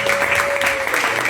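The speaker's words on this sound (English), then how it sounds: "One more round of applause." Audience applause fills the moment, a dense, steady wash of many hands clapping close and loud, with a faint voice underneath.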